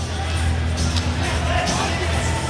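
A large crowd of hockey fans fills an arena before a junior world championship semifinal between Russia and Sweden, a steady dense hubbub of voices with faint scattered cheers.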